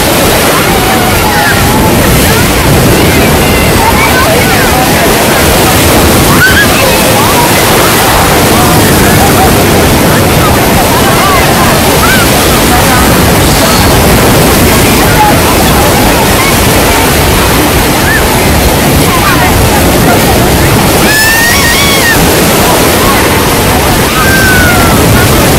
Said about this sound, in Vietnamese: Sóng vùng này gió lên sóng mạnh lắm anh chị ạ.